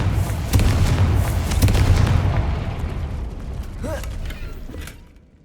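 A Confringo blasting curse goes off in the Hogwarts Legacy video game, giving a loud, rumbling explosion with crackling debris. The blast slowly dies away over several seconds and ends in a fading tail.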